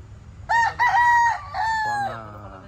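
A gamefowl rooster on a small fighting-cock farm in Calamba, Laguna gives one loud, close crow in several drawn-out segments, over a quiet farmyard background.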